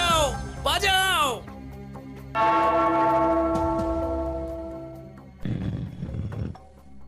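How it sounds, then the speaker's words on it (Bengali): A hand bell is rung in a cartoon comedy, giving a run of clear, sustained metallic rings with harmonic overtones that slowly decay. Cartoon voices and effects sound before it, and more shouting follows. "ওই ঘন্টাটা বাজাও, বাজাও।"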